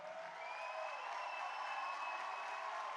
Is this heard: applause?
yes